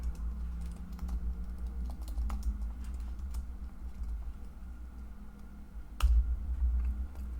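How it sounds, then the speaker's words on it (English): Computer keyboard typing to rename a file, a quiet run of light irregular key clicks over a low steady hum, with a slightly firmer click near the end. "Let me just rename it Einstein."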